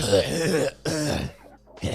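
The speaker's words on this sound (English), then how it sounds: "Let me clear my throat." A man clears his throat once mid-conversation, a short rough rasp between stretches of speech.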